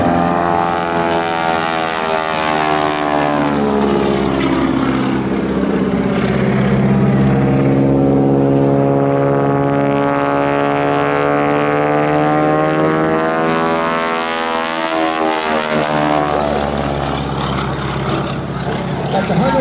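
Propeller airplane flying low and loud overhead during a wing-walking act at an air show, its engine drone rising and falling with Doppler sweeps as it passes twice, with an announcer talking over it.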